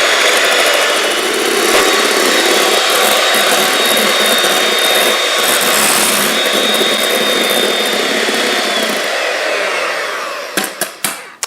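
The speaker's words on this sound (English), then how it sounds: "I start with beating the egg whites" An electric hand mixer beats egg whites with a little salt in a bowl, a loud continuous motorized whir running steadily for about ten seconds, then winding down with a few clattering knocks.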